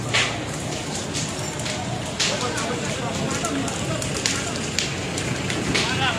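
A fire burns at a provincial parliament (DPRD) office in NTB, Indonesia, set alight during a student protest, giving a dense, continuous crackling roar with sharp pops and crowd noise mixed in.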